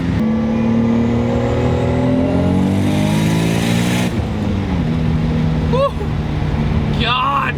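A 500 hp RB26DETT-swapped Nissan 300ZX (Z32) pulls hard through the gears, its engine note climbing loud and close, dropping at a shift around midway, then rising again, with brief whooping cries from the occupants near the end.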